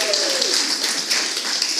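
A church congregation gives a round of applause for a guest being introduced, producing a continuous wash of many clapping hands with a voice briefly audible at the start.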